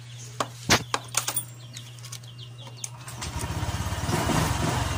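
A few sharp clicks, then the small engine of a Honda Click 125i scooter, started with the key, fires up and settles into a steady, close putter with a rhythmic pulse.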